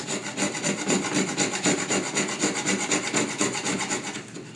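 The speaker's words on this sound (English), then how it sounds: "This is the nutmeg. In the nut form, we would just grind it down." Whole nutmeg grated for square sausage, a close, steady rhythmic rasping as the nut scrapes back and forth over the grater in quick repeated strokes, alone without talking.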